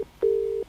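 A telephone tone sounds as a call is placed again, one steady mid-pitched beep lasting under half a second, clear and close, with short clicks just before and after it.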